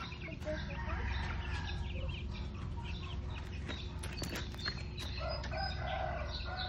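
Gamefowl chickens cluck and crow steadily while being fed outdoors, with a dense continuous flock chatter and occasional wing flaps, and a voice is faintly mixed in.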